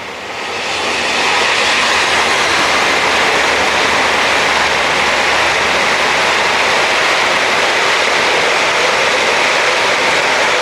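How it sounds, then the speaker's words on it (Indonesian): A non-diesel electric train passes close by a café in Yogyakarta, a loud, continuous broadband rush and rumble that swells within the first second and then holds steady, with no speech. "Ini ada kereta lewat lagi teman-teman."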